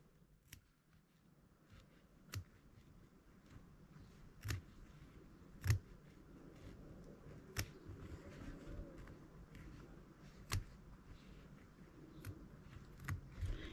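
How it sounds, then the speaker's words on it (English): Scissors cutting around the border of a custom appliqué patch, sparse sharp snips spaced a second or two apart over a soft steady background hiss, close and faint. "I'm going to cut around the border of the line and get the rest of this pink out of here"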